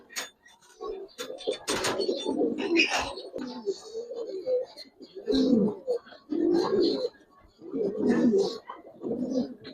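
Giribaz pigeons in a loft coo repeatedly in low, throaty rolling phrases, close and fairly loud, with some wing flutters and faint sharper chirps between the calls.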